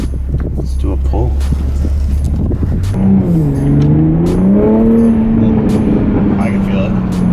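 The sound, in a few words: 2020 Toyota Supra engine revving during a dyno pull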